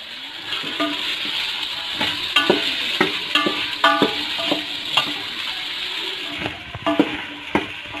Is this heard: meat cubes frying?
yes